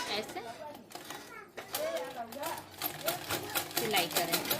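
Sewing machine stitching a lined blouse, a rapid mechanical rattle running in bursts while someone talks over it.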